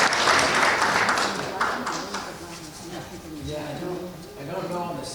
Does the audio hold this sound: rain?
no